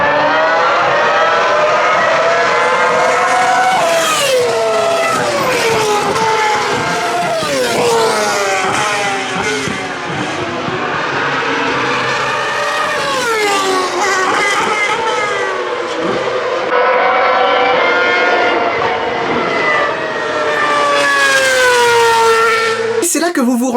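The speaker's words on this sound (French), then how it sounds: "Le bruit bien strident qui te défonce les oreilles est tout simplement orgasmique." Pre-2013 Ferrari Formula 1 cars race at Spa, their shrill screaming engines rising and falling in continuous high-pitched sweeps as they pass, loud and sustained throughout.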